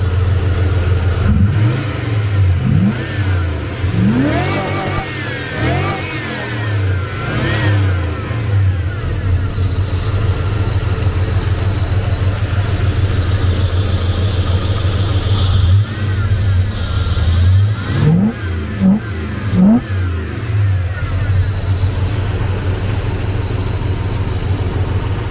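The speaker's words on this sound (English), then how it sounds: "Let me turn off the engine." A GM car engine fitted with Holley injectors idles with a steady low rumble, broken by several sharp revs that climb and fall, with a cluster of revs early on and another later; close and loud.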